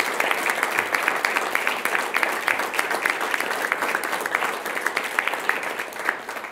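Applause at a school district governing board meeting for student athletes and team captains holding a trophy, a moderate round of many hands clapping with distinct individual claps, steady and even, easing off toward the end.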